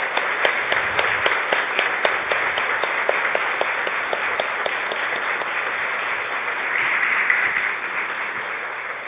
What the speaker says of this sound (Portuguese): uma salva de palmas para o coral de Joana de Ângeles